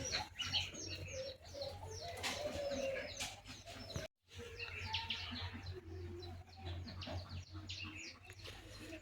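Pigeons in a village home coo in repeated low murmurs mixed with light chirps and occasional wing flutters, quiet and close, with faint background voices and a brief dropout midway.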